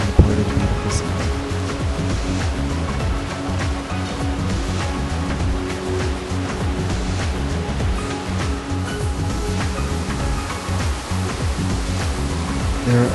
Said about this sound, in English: you can easily get right next to the creek